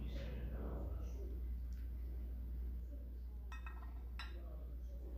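Ceramic bowls clink against each other a few times as they are carried to a home kitchen for washing, the sharp contacts arriving near the end over a steady low room hum.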